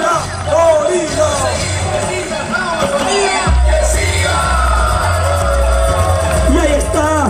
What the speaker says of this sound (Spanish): que suba al escenario y lo reciba con fuertes aplausos